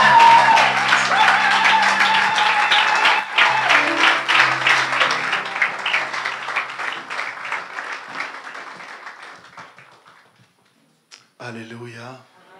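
A church congregation applauds and cheers loudly and steadily for the pastor, with dense clapping for about ten seconds before it fades to silence, followed by a brief voice.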